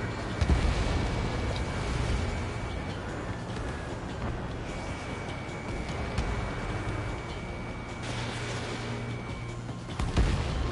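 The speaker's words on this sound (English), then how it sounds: "Mage 2, missile launch." A missile launch and explosions in the Ace Combat 7 jet combat video game give a continuous loud roaring rumble, broken by sharper blasts and bursts near the start and end.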